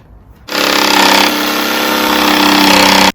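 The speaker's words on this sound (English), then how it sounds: "so I jigsawed this" A jigsaw bites into a countertop with a loud, steady buzzing rasp that starts abruptly and runs for about two and a half seconds before cutting off.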